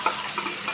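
Onion and tomato frying in oil for egg kurma, a brief close sizzle with a soft crackle and a light stir at the start.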